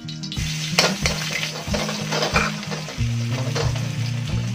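Garlic sautéing in hot cooking oil in a pan for chicken feet sopas, giving a loud continuous sizzle with stirring scrapes and a low pulsing hum underneath, with no talking.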